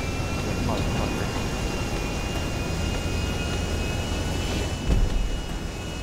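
Airplane engine in GTA, a steady broad roar with a thin high whine that holds level throughout, briefly swelling near the end.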